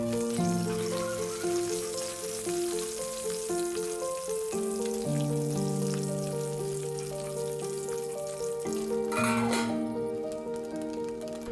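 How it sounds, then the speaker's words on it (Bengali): Shing fish (stinging catfish) pieces frying in oil on their second side give a steady hissing sizzle, partly masked by louder melodic background music throughout. "এবার মাছের এক পিঠ হয়ে গেলে আর এক পিঠ ভালোভাবে ভেজে নেব।"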